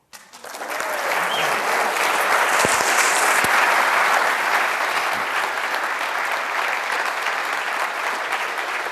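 A lecture audience breaks into sustained applause for a speaker walking to the podium, starting abruptly and holding a dense, steady wash of clapping from many hands without fading.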